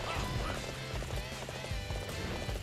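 Horses gallop in Dynasty Warriors 8 Xtreme Legends, a dense, loud drumming of hooves mixed with battle noise and game sound, continuous throughout.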